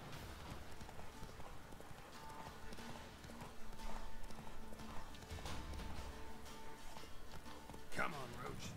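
Roach, a horse in The Witcher 3, trots with steady clip-clop hoofbeats close by, under game music and ambience, with a brief whinny near the end and someone talking over it.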